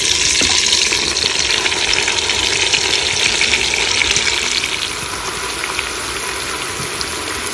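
Chicken escalopes sizzling and frying in a pan ahead of mushrooms going in to brown, a steady close crackle that eases slightly near the end, with no talk over it.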